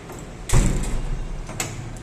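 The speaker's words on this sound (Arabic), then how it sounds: "تاني حاجة نقفل الباب." A malfunctioning elevator door with a faulty lock slides shut with a single loud, close thud, followed by a lingering low rumble as the car settles and a faint click near the end.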